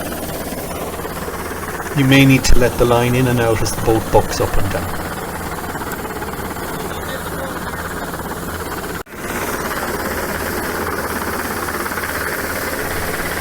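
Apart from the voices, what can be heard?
helicopter hovering over boat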